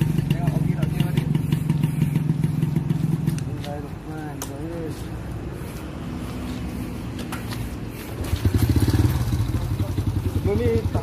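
A repaired motorcycle engine runs close by at a fast idle, drops to a quieter idle with clattering, then revs up again, while people talk over it.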